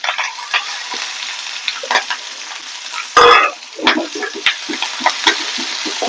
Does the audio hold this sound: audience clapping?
no